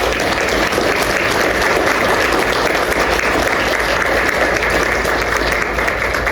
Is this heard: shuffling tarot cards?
no